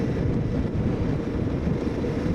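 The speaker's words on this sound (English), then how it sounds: "Windy, windy." Strong wind roars steadily across the microphone on a Suzuki DL800 V-Strom motorcycle ride through Glencoe near Fort William, a loud constant low rumble filling the whole moment with no clear talk.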